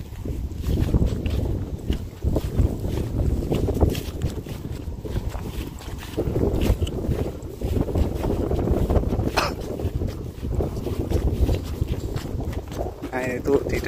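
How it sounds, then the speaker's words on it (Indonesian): Strong wind gusts buffet the microphone over dry rice fields, a continuous low roaring rush with fluctuating gusts, while someone talks intermittently over it. "angin lumayan kenceng nih"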